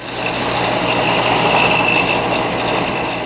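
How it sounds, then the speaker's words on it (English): Shelf pin chucked in an electric drill and spun against the moving belt of a belt sander, giving a steady, loud whirring grind with a high whine, continuous for the whole stretch with no talk. "and then I'll spin it against the moving belt on my belt sander."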